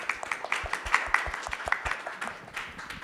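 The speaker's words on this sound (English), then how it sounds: "please give a round of applause to our three main experts who have participated in this conversation" Attendees at an Ethereum community panel session in a conference hall clap for the experts, a moderate, fairly quiet patter of distinct claps that tapers off toward the end.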